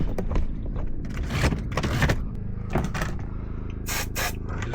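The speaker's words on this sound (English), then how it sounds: "I just like to put a bit of spray on these locks because they can get a bit sticky as well." Short hissing bursts of aerosol lubricant are sprayed onto caravan door locks, close and fairly quiet, mixed with scraping and handling noises.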